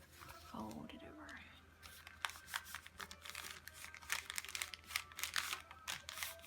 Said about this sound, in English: Fold it over.